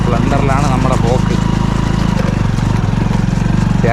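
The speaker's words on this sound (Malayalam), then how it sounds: "നമ്മുടെ സ്പ്ലെൻഡറിലാണ് നമ്മുടെ പോക്ക്." A Hero Splendor motorcycle climbs a forest trail, its engine holding a steady, close, throbbing drone throughout while people talk over it.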